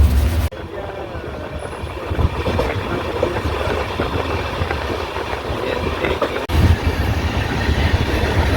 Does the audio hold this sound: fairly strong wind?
no